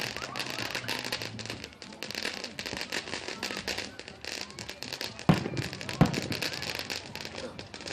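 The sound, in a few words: fireworks exploding on Fourth of July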